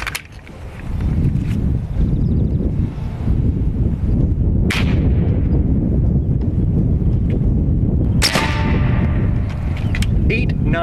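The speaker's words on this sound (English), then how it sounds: "I'm gonna go ahead and get through this 5-round group real quick" An AEA Big 9 .357 Challenger bullpup air rifle fires at an outdoor range, with a few sharp, separate reports cutting through loud, constant wind rumble.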